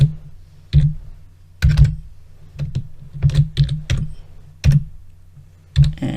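Someone types a command on a computer keyboard: crisp, separate keystrokes in small clusters with short pauses between them, close and fairly loud over a low electrical hum.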